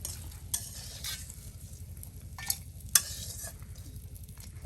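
Chicken skin with spices and onion paste is stirred and fried in a pan in a Bengali village kitchen, a steady close sizzle broken by scraping stirs and occasional sharp clinks of the utensil, with no talking.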